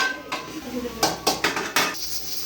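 Eggplants fry in a pan for an aloo baingan dish, heard mostly as a series of clanking metal pot and utensil strikes over a faint sizzle, with a voice speaking at times.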